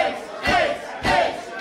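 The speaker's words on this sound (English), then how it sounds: "And this crowd chanting ace at Megan Bain." Wrestling arena crowd chanting in unison at a women's match, loud rhythmic bursts of massed voices repeating roughly every half second with a steady roar between.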